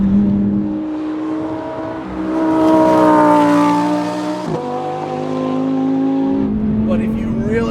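A 2020 Lamborghini Huracan Evo engine climbs through high revs, its loud harmonic howl rising and sliding in pitch, dipping for a gearchange, then pulling up again, heard from inside the car.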